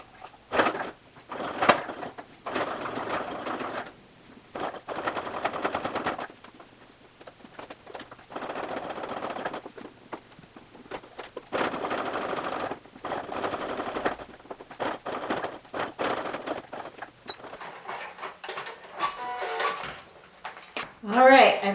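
A sewing machine works through suede and three layers of a waist bag in halting, uneven bursts of stitching with some slow hand-cranked stretches, close by, as a person talks throughout.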